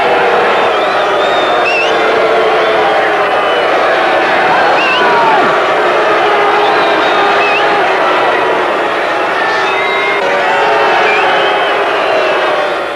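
Dense stadium crowd noise at Super Bowl IX, Pittsburgh Steelers against Minnesota Vikings in 1975, a steady roar of cheering and whooping that holds loud throughout.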